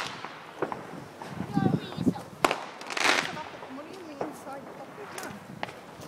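Bonfire Night fireworks go off outside at night, with scattered bangs and crackles at middle distance, some whistling rockets, footsteps and people talking nearby.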